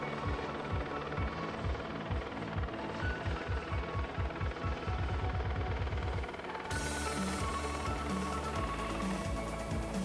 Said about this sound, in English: Lake Kariba in this beautiful helicopter, and Bob is going to be my pilot